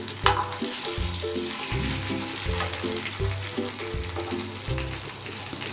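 Paddu cheela batter fries in a pan while being flipped, a steady close sizzle with a regular rhythmic clacking pattern running throughout, moderately loud, no voices.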